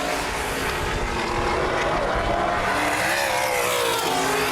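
Sprint race cars roar around Baer Field Speedway in a Hoosier Outlaw Sprint Series race, a loud continuous engine drone with rising and falling pitch as cars pass close by.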